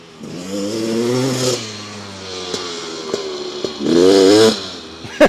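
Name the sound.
Beta 350 RX two-stroke dirt bike riding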